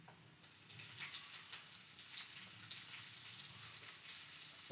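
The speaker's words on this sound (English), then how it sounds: "Now I'm going to add the peppers. Just put them in there." Peppers dropped into a pan of sizzling Escovitch dressing, a steady bright frying hiss with crackling spatter that swells as they go in and keeps sizzling close by.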